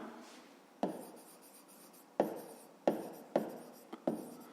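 A pen writes on paper during a fifth-grade maths exercise, with a series of sharp, close taps and short scratchy strokes separated by brief pauses, fairly quiet and with no talk.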